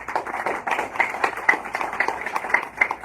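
Participants at a workforce development course graduation clap together in a steady, dense burst of many hands, close and moderately loud, with no talking over it.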